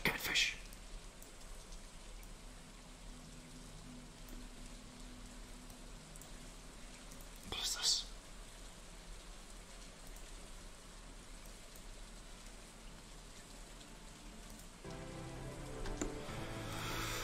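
Steady rain hisses throughout in the Stardew Valley video game, a soft continuous wash with a couple of brief louder clicks and a shift in tone near the end.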